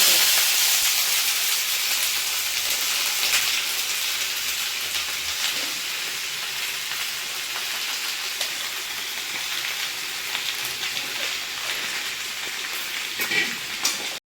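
Pumpkin pieces frying in hot oil with mustard seeds and dried red chilies for a poriyal, giving a steady, close, loud sizzling hiss that runs throughout with no talking.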